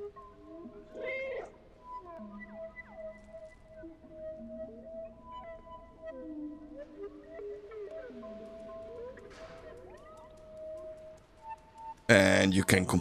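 Cat meowing in the video game Stray on PlayStation 5, several drawn-out mews spaced across the stretch over a quiet game soundscape, with someone talking at moments.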